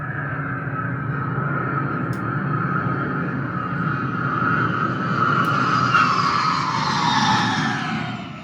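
A steady airplane engine roar from a push-button sound machine at a Ripley's attraction plays continuously, swelling slightly louder and brighter toward the end before easing off.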